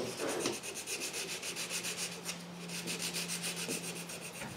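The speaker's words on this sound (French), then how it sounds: "j'utilise du papier sablé pour harmoniser ma courbe" Sandpaper rubbed back and forth over a cut walnut curve, smoothing the edge after scroll-saw work; a steady, close, rhythmic rasping in quick even strokes with no talk.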